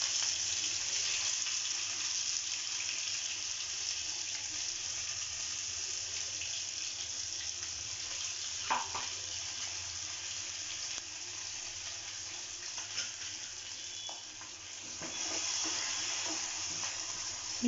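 Green chilli and ginger paste, ground in a mixer, fries in a pan with a quiet, steady sizzle throughout, broken by a brief scrape around the middle and a few soft stirring sounds near the end.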